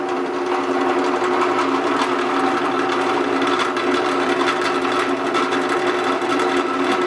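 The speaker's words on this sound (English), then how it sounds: "I'm going to drill a 1/4 inch hole" A power drill whirs steadily and continuously as it bores a 1/4 inch hole for a kayak seat riser, a buzzing mechanical drone with no pauses.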